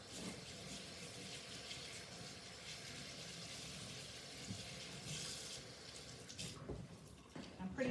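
A piece of wet felt is rinsed under running water, a steady faint hiss of flowing tap water with some splashing and handling toward the end.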